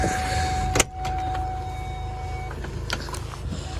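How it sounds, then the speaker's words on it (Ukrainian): A steady electronic parking-sensor tone sounds inside a 2013 Ford Mondeo Mk4 2.0 TDCi over a low engine hum, then cuts off partway through, with a few faint clicks. "Партронік у нас пищить, трішки заважає нам."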